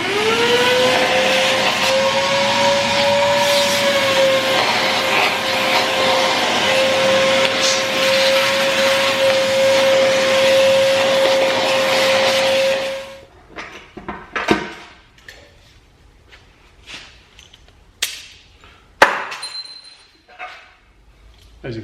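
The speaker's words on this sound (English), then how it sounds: "Probably gonna vacuum this real quick, just get most of this stuff off so nothing falls inside." A vacuum cleaner whines loudly and steadily up close for several seconds, then cuts off, leaving scattered clinks, taps and handling noises.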